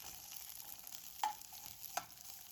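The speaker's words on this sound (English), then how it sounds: "I'm adding the onions, garlic, and hot peppers, and I'm going to let this cook for just a few minutes." Onions, garlic and hot peppers cooking in a pot, a faint, even sizzle with two soft ticks from the spoon, quiet and with no voices.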